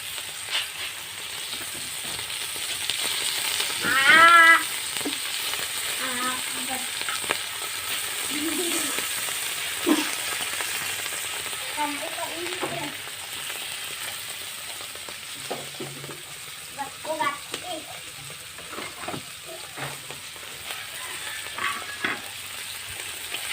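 Bones fry in a pan with a continuous crackling sizzle, joined by occasional stirring scrapes and a faint voice now and then.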